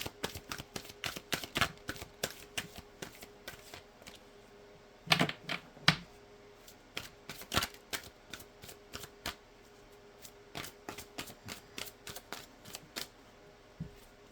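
Oracle cards from a native spirit deck being shuffled by hand, a quick run of sharp, crisp riffling snaps with brief pauses and a couple of louder bursts, close and alone without talk.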